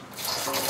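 A short burst of liquid being poured in the video game Metro Exodus, a bright, rising watery gush that fills out quickly and holds steady.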